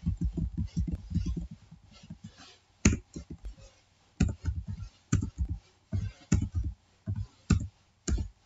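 Typing text into Microsoft Word on a computer keyboard: close, uneven bursts of clacking keystrokes with short pauses between runs, and soft speech woven in among the taps.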